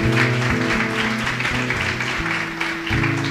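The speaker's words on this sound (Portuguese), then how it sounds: "Pode aplaudir o Senhor." Church congregation applauding, dense steady clapping that runs throughout, backed by sustained organ or keyboard tones and no talking.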